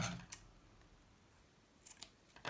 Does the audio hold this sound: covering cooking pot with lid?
no